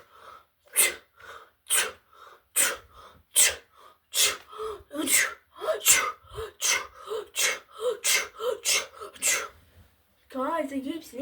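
Repeated sneezes burst out one after another in a fast, loud series, each a sharp broadband blast, close to the mic, ending with a short strained vocal sound.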